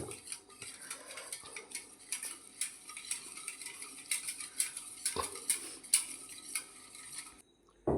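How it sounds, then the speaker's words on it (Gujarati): A spoon works through a salted kadhi mixture in a metal pot, giving a rapid run of light ticking clinks and scrapes up close at modest volume, with no voices. "મીઠું નાખ્યું હવે મિક્સ કરી નાખો બધું"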